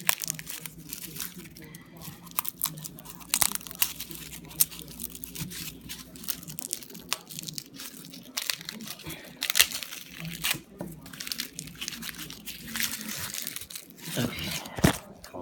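Papery crinkling and crackling as garlic bulbs are peeled and broken apart into cloves by hand, close and continuous with irregular snaps, while people talk over it.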